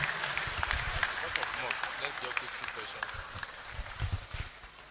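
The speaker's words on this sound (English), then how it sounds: "Please, we can continue with our clap." An audience at a university lecture claps in a steady, dense patter that fills the hall, with a voice speaking over the applause.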